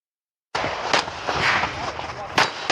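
A pistol fires during a USPSA shooting stage: a few sharp, cracking shots spaced unevenly, loud and close, with a noisy outdoor wash between them.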